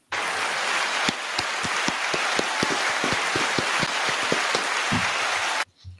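One person on a sports podcast live stream claps by hand, about twenty sharp, evenly spaced claps over a steady hiss of background noise before stopping abruptly.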